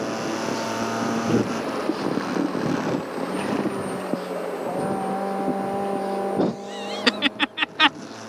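A Mazda Miata on the Circuit of the Americas race track gives a sustained engine whine that shifts in pitch after a downshift, followed near the end by several sharp, loud bursts.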